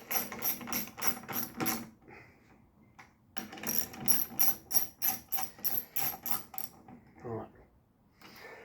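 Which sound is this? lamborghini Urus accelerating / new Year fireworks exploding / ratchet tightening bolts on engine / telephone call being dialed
ratchet tightening bolts on engine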